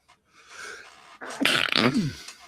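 A single sneeze bursts out at close range, preceded by a short quieter intake and breathy rustle, loud and sharp against an otherwise quiet room with no speech.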